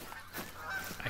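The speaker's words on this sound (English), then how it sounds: "hear goose somewhere." A goose honks in the video game theHunter: Call of the Wild, set in the European Hirschfelden reserve. The calls are faint and distant over quiet outdoor ambience, with a couple of brief nasal honks near the end.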